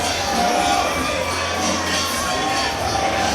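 A large wrestling show crowd in Port St. Lucie, Florida, cheering and shouting in a steady, loud roar of many voices filling the venue, with scattered whoops on top.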